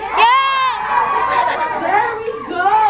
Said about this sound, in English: Can I hear a louder cheer?